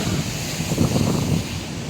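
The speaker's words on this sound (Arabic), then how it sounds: "لا لا الموج مش عالي هنا،" Sea waves rolling onto the shore at Alexandria, Egypt, during a storm, with wind buffeting the microphone, a loud continuous roar that swells briefly in the middle.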